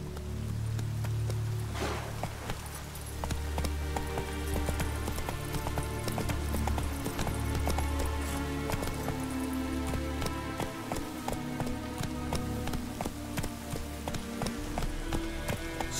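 Hooves pound in a quick, steady gallop as the horse Roach runs in The Witcher 3 video game, continuous and fairly close against ambient game sound.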